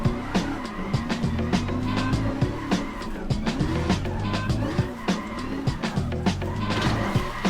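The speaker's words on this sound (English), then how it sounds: "that was a really good slide that I had going" A car drifting with handbrake slides revs hard in repeated rising and falling bursts as its tires squeal and scrub, loud and close, with the cycle repeating several times.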